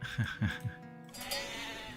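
In the video game Life is Feudal: Forest Village, a few short sheep bleats sound quietly near the start, followed by soft ambient game sound.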